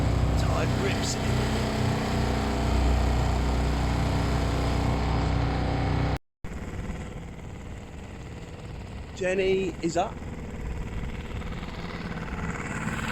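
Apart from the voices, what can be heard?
sailboat engine running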